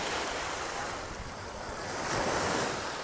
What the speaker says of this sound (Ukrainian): І тут, до речі, більші хвилі.